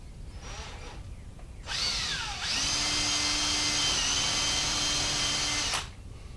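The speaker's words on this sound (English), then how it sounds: "what I'm doing now is just drilling a hole to start this" A power drill whines up, bores steadily at a high pitch into metal for a hole to fit a hasp, then cuts off, with a brief spin-up just before.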